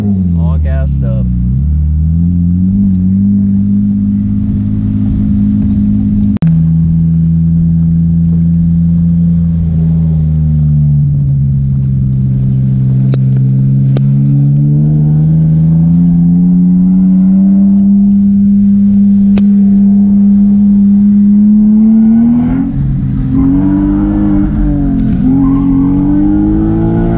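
A car on street tires makes a warm-up drift on a road, its engine droning loud and close, then revving higher near the end as the pitch climbs and wavers.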